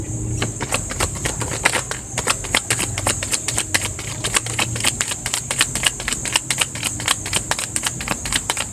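Tarot cards are shuffled in a steady stream of quick, crisp clicks and flutters that continue without pause, close by.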